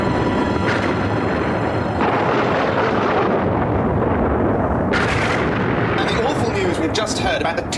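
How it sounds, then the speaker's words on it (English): A loud, sustained explosive roar with heavy rumbling and crackling bursts from an explosion and fire at a printworks, continuous and close, with no clear speech. "Just heard about the terrible explosion and fire at the new Mirror Group printworks"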